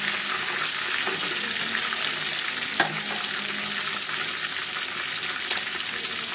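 Beef pieces frying in a wok, a dense steady sizzle throughout with a few faint clinks of utensils.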